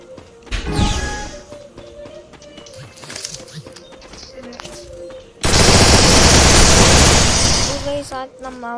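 Gunfire from an MB40 gun in an online shooting video game, scattered shots and thuds under a player's commentary, then a sudden loud sustained burst of automatic fire.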